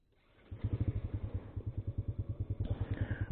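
A Honda Legenda motorcycle engine idles just after being started, its single-cylinder putter pulsing in an even, close, fairly loud rhythm with no talk over it.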